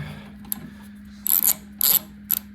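Ratchet clicking as it turns a 10mm socket on a Craftsman 24-inch snow thrower: three short bursts of rapid pawl clicks, close and fairly loud, over a low steady hum.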